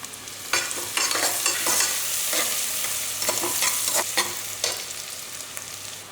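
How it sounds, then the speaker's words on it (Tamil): Onions sautéing in a pan with a pinch of turmeric for brinjal rice, a steady close sizzle broken by repeated scraping stirs of a spoon against the pan, with no voices. "வெங்காயம் வதங்கும் போதே"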